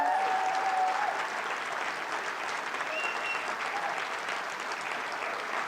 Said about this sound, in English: I'd love a huge round of applause, please, for Jude and her entire team